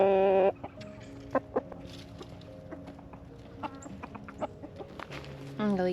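Several chickens cluck and murmur nearby in a garden in short, irregular bursts, with a louder squawk at the start and end.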